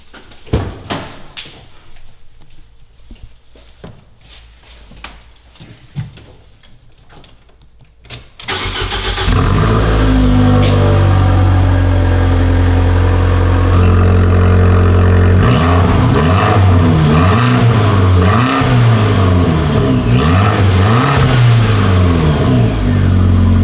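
Sports car engine in cold weather: after quiet shuffling, the starter catches and the engine bursts into a loud roar, then settles into a high idle with repeated revs rising and falling.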